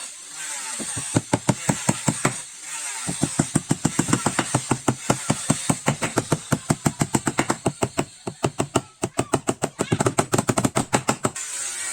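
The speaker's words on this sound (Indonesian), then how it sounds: "ini udah selesai dipaku nih bagian tengahnya rata" Nails hammered into a boat hull under restoration: a long run of sharp, rapid, evenly spaced metallic strikes, close and loud, with a couple of brief pauses between bursts and no voices.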